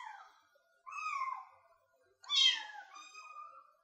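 Young kittens give two clear, high, wavering meows close by, the second louder and longer, with silence between them.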